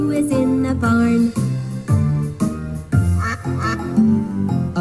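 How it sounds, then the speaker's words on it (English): Duck quacks come in a quick, rhythmic run, loud and close, woven into a sung children's farm tune about animals in a barn. "A duck is in the barn"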